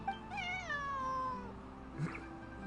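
A cat in Genshin Impact lets out a long, drawn-out meow that slides downward in pitch, close and clear, followed by a brief softer sound with no talk.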